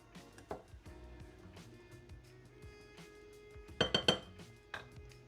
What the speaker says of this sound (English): give it a little stir to make sure it's well mixed in with the flour and the butter